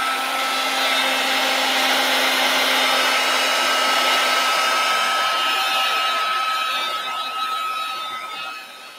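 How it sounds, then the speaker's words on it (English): A heat tool blows continuously while heat setting a mixed media canvas, a steady loud whirring hiss with a constant hum tone, close to the microphone, easing off and quieting near the end. "I'm going to heat set this a little bit."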